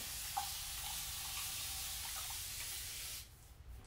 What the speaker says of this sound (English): You just spray some more water back in it.